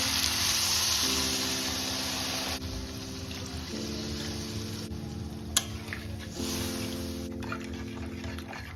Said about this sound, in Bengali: আলু আর মশলাটা ভালো করে কষানো হয়ে গেছে আমি এর মধ্যে এবার জল দিয়ে দেবো